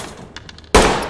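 A loud, sudden gunshot burst from the tactical shooter Ready or Not, with a sharp broadband crack and a long ringing tail, following a stretch of faint background rumble and a few quiet clicks.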